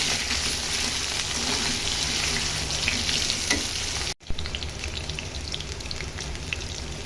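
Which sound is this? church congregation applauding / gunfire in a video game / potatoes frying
potatoes frying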